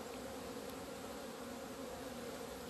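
Honeybees in an opened beehive in winter make a faint, even, continuous buzz that holds steady throughout with no breaks.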